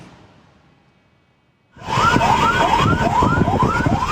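A fire truck siren sounds on the Cisumdawu toll road in Sumedang, West Java, as the truck heads to an accident. After near silence, a loud, close, repeating rising wail starts suddenly and continues steadily without speech.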